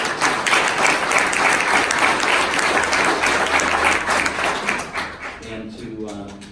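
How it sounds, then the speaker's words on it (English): An audience at a political nomination debate event claps in a dense, sustained round of applause that fades over the last seconds, while a voice begins talking as it dies away. "How about a nice round of applause for Linda?"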